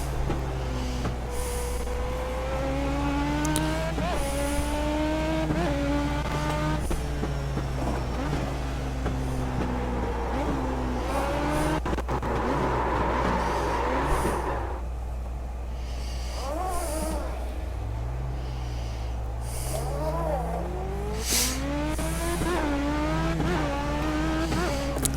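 Legend cars race on a dirt track in the iRacing video game, engine notes climbing and dropping through gear changes and corners, with a steady low hum running underneath throughout.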